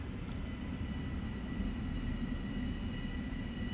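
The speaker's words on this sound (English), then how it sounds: "we got this train coming in" A Long Island Rail Road train rolls into a station in Train Sim World, a steady low rumble with a faint high whine, constant and moderately distant, with no voices.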